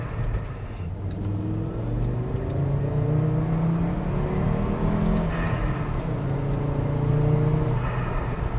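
A manual Volvo V70 T5 five-cylinder engine with an aftermarket intake pulls hard from inside the car, a loud rising growl that climbs through the revs, eases and climbs again.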